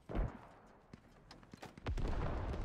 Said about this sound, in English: Can you see anything over there where all those explosions are going off?